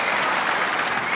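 Tennis crowd cheering and applauding after a point, a dense, loud wash of clapping and roaring voices that holds steady throughout the short burst.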